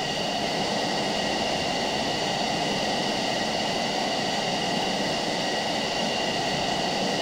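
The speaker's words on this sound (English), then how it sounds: "that jet is really smoking" A jet engine roars loud and steady for several seconds during a flight mission, a continuous broadband rush with a high whine on top and no voices.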